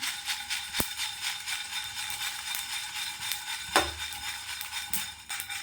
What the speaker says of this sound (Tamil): கொத்தமல்லி எடுத்துக்கலாம் இதை நல்லா வறுத்துக்கலாம்